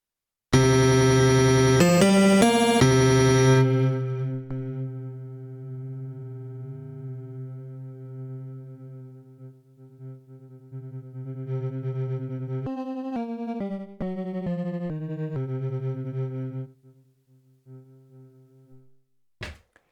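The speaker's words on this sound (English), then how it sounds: "another variation of granular synthesis, this time called cloud grains" Granular synth texture from a MicroFreak/MiniFreak cloud grains oscillator on a piano sound: a loud, dense burst of smeared tones settles into a sustained droning cloud, then a flurry of stuttering grain fragments before fading out.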